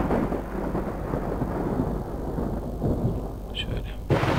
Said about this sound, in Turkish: Bir tane daha şuraya bir yıldırım ekleyelim.